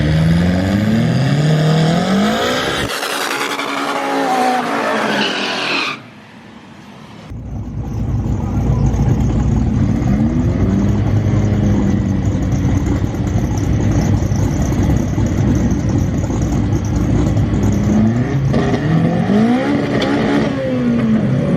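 A loud turbo race car engine revs hard in rising sweeps at launch, cuts briefly to near silence, then roars back and keeps screaming up through the gears.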